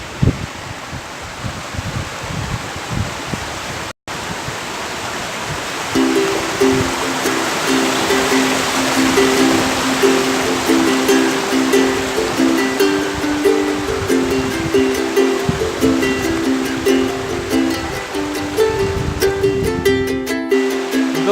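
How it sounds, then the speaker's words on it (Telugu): Tonkota Amma waterfall at Ananthagiri, near Visakhapatnam, pours in a steady, dense rush that fills the whole stretch, with a faint repeating melodic tone running beneath it for most of its length. "చాలా పెద్ద వాటర్ ఫాల్స్, చూడడానికి చాలా బాగున్నాయి"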